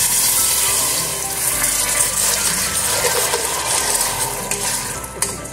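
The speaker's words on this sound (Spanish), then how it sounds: "Cúrcuma con ají amarillo. Que se fría bien." Turmeric and ají amarillo paste frying in a pan for Peruvian caucau de mondongo, giving a steady, close broadband sizzle with light stirring scrapes and no talk.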